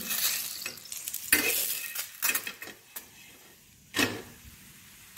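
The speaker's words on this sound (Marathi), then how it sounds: "आता हे भाजून घ्यायचे आहे। असे दोन्ही बाजूला तेल लावून" Lachha paratha roasts with oil on a griddle, a soft sizzle punctuated by several brief scraping and tapping bursts from a spatula, close up and moderately quiet.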